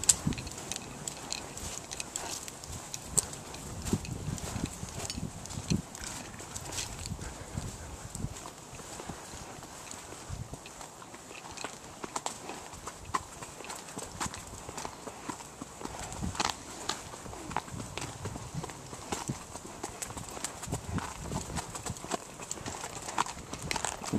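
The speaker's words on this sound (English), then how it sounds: "Seeing all the horses as we come back." Faint, irregular hoof clops on ground continue throughout against a windy outdoor background, with no clear voices.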